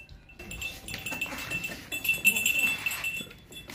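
A young goat with six teeth, a healthy quality doe, calls amid a busy livestock market with people talking nearby and faint metallic clinks in the background.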